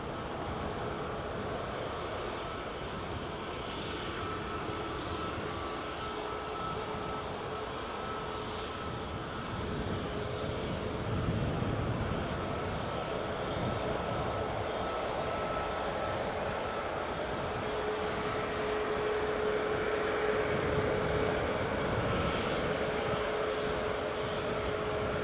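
A WestJet airliner taxiing at Edinburgh Airport, its engines a steady distant whine and rumble holding and slowly swelling over many seconds, with no voices.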